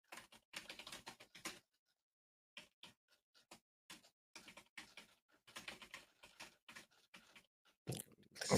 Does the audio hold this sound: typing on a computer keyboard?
yes